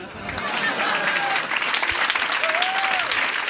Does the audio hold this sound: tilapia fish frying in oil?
no